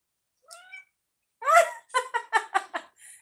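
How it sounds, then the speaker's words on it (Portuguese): Cat meowing close by in a quiet room: one soft short meow, then a louder drawn-out meow followed by a quick run of five or six short chirping meows and a faint final one. "Aí tá miando aqui."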